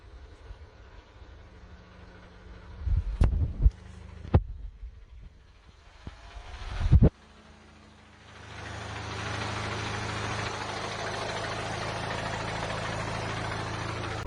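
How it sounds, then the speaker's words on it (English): An idling VW GTI MK7.5 shows clutch chatter, a low rattling hum that builds into a steady engine drone after a few sharp clunks, heard close with no talk. "now you know what chatter is. It's kind of like the tractor noise you get when you engage and disengage the pedals"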